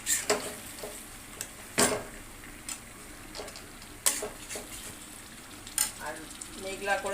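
Meat and potatoes frying in oil-rich spice masala in a pan, with a steady close sizzle broken by scattered sharp scraping knocks of stirring.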